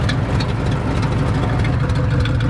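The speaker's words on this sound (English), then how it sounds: "this big V8 engine with these little tiny mufflers on each side ain't gonna stop noise much" A big Jeep V8 idles loud and close, its tiny mufflers and holed exhaust letting out a steady, uneven rumble with a rough low throb that stays constant throughout.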